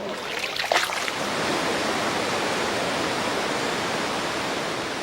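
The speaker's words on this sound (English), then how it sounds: "This narrow part of the river we're now entering is called the Grand Flume" River water rushing steadily through the narrow Grand Flume of Ausable Chasm, a dense continuous roar heard from a boat, with a brief splash or clatter near the start.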